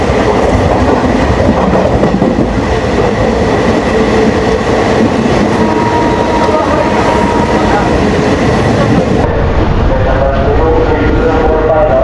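A passenger train near Kharagpur Junction runs fairly slowly on its rails, heard from on board as a loud continuous rumble with rhythmic clatter and rattling of the carriage throughout.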